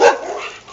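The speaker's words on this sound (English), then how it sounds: "We get to walk the dogs and hear all the dogs in the neighborhood" A neighborhood dog lets out a single short bark at night, fairly close and loud, quickly fading into quiet.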